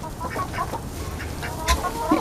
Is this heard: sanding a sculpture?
no